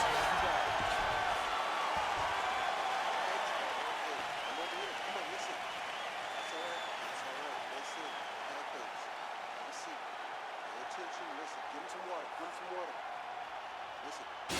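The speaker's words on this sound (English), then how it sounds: "So the crowd voicing its appreciation after that round" Crowd applause in a UFC 4 fight simulation between McGregor and Poirier at UFC 264 after a round, a broad steady wash of clapping and cheering that slowly eases over the clip, with speech running underneath.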